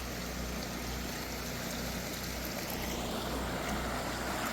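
Floodwater rushing through a swollen creek clogged with debris during Hurricane Milton, a steady, loud, broadband roar of fast-moving water with no pauses, heard close by and without any talking.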